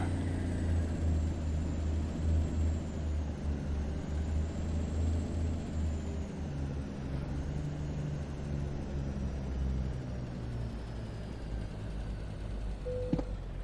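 A truck engine idles in American Truck Simulator, a steady low rumble with a faint high whine above it, holding constant throughout and ending in a brief click.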